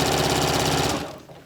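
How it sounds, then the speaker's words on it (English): A sewing machine stitching a Yup'ik qaspeq, running in a fast rapid mechanical chatter for about a second and then stopping abruptly, close and fairly loud. "I'll just start sewing"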